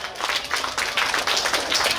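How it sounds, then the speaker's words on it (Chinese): Outdoor audience applause at the rainy Dajia farmers' association taro festival beside Dajia railway station, a dense, loud burst of many hands clapping steadily throughout. "是不是请各位给我们大甲农会一个掌声鼓励"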